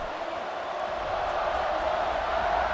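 A stadium crowd in a college football video game gives off a steady, dense roar of cheering that stays even and fairly distant for the whole moment.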